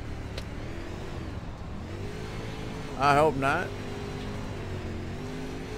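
A UMP modified race car in iRacing at Lanier holds a steady engine drone at constant revs throughout, with someone speaking briefly over it midway.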